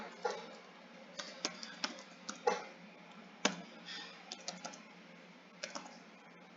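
Rapid keystrokes on a computer keyboard as a command is typed into Rhino 3D software, sharp irregular clicks close up in a quiet room with no talking.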